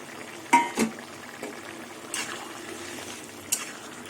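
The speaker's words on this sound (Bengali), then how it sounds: "ঝোল ফুটে গেছে আর আলু সেদ্ধ হয়ে গেছে এবার ভাজা ভাজা ঢ্যাঁড়সগুলো দিয়ে দেবো" Fried okra pieces go into a pot of boiling curry gravy with cooked potatoes: a couple of quick splashy plops and pan knocks, then soft bubbling simmer with a few later clinks.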